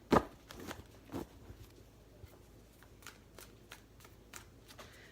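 Tarot cards being shuffled with quick riffling bursts and soft flicks, close by, one louder snap near the start and lighter taps scattered throughout.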